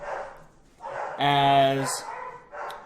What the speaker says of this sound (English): I apologize for the dogs going absolutely insane in the background